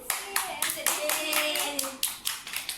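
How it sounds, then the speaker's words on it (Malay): Schoolchildren in a classroom clap together in a short burst of roughly a dozen brisk, fairly even claps, close and clear, with faint voices running underneath. "Tepuk tangan."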